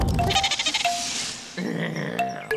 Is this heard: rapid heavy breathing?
no